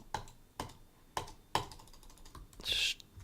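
Keys on a computer keyboard are struck at a desk in a few separate, spaced taps, close and quiet, followed by a brief higher-pitched hiss near the end.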